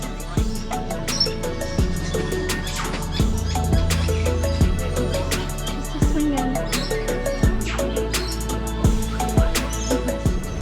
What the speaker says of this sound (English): I've got all these different birds in my area